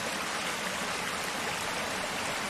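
Stream flowing through the Hundikuristik ravine near the waterfall at Kadriorg in Tallinn, where the water cuts into bedrock; a steady, broadband rush of running water, close and continuous with no voices.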